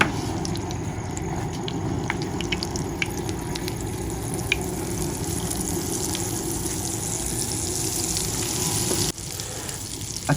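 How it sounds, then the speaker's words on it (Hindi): Beef shami kabab patties fry in hot ghee with a steady, even sizzle and crackle that carries on loud and unbroken, with only a brief dip near the end. "तो अभी टिक्कियाँ फ्राई कर लेंगे हम।"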